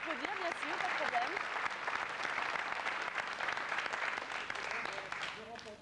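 Studio audience applause in a television setting, steady clapping from a crowd of moderate size heard at a distance, sustained throughout and tapering at the end as a voice begins to speak.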